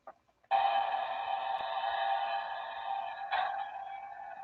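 Back to the Future DeLorean Mk II toy car in hover mode, giving a steady electronic hum with a short chirp at the start and a brief swell near the end, close and fairly quiet.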